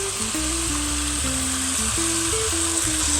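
Pork seasoned with Tommy spice frying in a Dutch oven gives a steady, close sizzle throughout, with faint low tones underneath and no talking.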